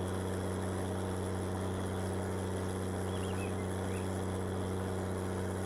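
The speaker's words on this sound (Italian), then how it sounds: "fa una fatica assurda sto trattore" A tractor engine in Farming Simulator 19 drones in a steady, strained low hum throughout, with no change in pitch or rhythm, at a modest level with no talk.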